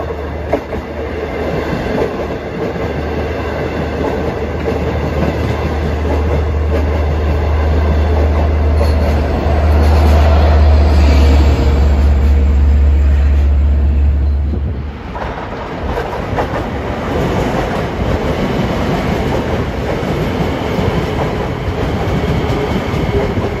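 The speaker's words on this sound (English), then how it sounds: "528 train to Pedestal." A Long Island Rail Road train passes at Elmont during rush hour, a loud, close, steady roar with rumbling wheels and clickety-clack that swells around the middle, then drops away as it goes by.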